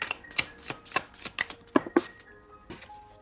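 A deck of tarot cards being shuffled by hand, a string of soft crisp riffles and slaps in uneven rhythm, close and fairly quiet with no talking.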